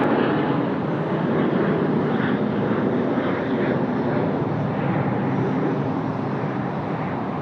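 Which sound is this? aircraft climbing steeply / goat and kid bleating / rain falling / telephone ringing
aircraft climbing steeply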